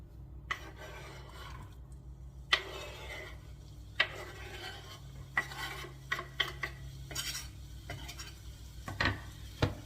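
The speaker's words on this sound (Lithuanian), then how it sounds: "Taip, mes kepame svogūnus." Onions frying in a pan on a home stove, with irregular scraping, stirring and metallic clinks from the utensil against the pan over a soft, steady background, and no talking.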